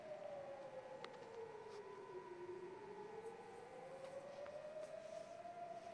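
Civil-defense air-raid sirens wail over Tel Aviv, a faint, distant tone slowly falling and rising again in a long smooth sweep, heard alone against quiet background noise.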